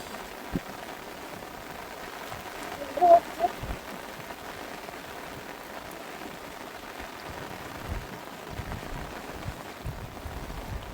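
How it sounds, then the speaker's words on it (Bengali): Steady rain falls beside a river during a storm, a continuous soft hiss with a few scattered louder knocks and splashes. "আজকে সকাল থেকে বৃষ্টি হয়েই চলেছে।"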